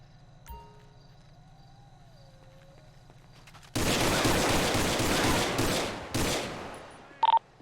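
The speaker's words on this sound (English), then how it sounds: "Shots fired." Gunfire breaks out in LSPDFR, the GTA V police mod: after a quiet stretch with faint tones, a loud rapid fusillade of shots erupts and rattles on for several seconds, stops briefly, resumes, then ends with a short electronic beep.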